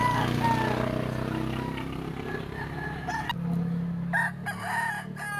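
A gamecock rooster crows loudly in a long drawn-out call at an early-morning Saturday chicken market in Lipa, Batangas, followed by lower clucking and market noise with a passing engine.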